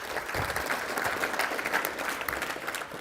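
Brief round of applause at a veterans chamber of commerce awards luncheon, a crowd clapping steadily at moderate loudness for a few seconds.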